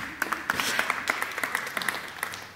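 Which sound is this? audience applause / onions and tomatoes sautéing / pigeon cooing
audience applause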